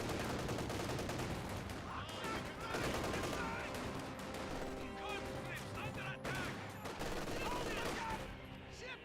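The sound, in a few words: gunfire in video game Company of Heroes 2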